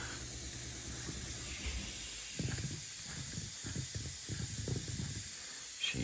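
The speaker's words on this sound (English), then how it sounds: "And then douse it good with brake cleaner." Aerosol brake cleaner sprayed onto a hot, freshly welded Infiniti G35 rear differential drained of fluid, making a loud, steady, close-up hiss that runs the whole time, with a few low knocks and rumbles underneath and no talking.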